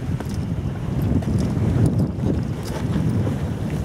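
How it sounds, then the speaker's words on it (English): Strong wind on the pier at Anstruther harbour, Scotland, roars steadily across the microphone in a continuous low buffeting rush, with no talking. "It'll be a bit windy, so I'll not bother talking because you won't hear me."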